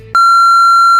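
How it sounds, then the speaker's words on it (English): A ringing-in-the-ears effect: after a brief low murmur, a single pure high-pitched tone cuts in abruptly and holds loud and steady, alone. "there's this ringing in your ears that's just..."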